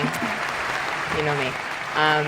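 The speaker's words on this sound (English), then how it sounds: "This applause is going on forever" Studio audience applause during a Disney movie news show, a steady wash of clapping that continues throughout, with a voice speaking briefly over it near the end.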